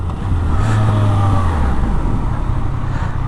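A Yamaha MT-09 motorcycle with its stock exhaust is ridden, giving a loud, continuous engine roar with a rising then settling tone, heard close from on board with wind rush.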